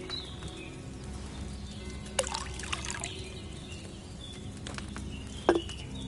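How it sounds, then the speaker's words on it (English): Wine poured from a pitcher into a cauldron in Kingdom Come: Deliverance II, a soft, steady trickling dribble with a couple of brief clinks over faint ambient background. "First, you have to pour the right base into the cauldron."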